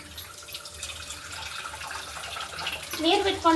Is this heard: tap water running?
yes